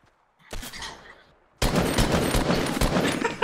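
Fortnite squad match gunfire: a short burst of shots, then a quiet gap, then a loud sustained barrage of repeated blasts, close and dense.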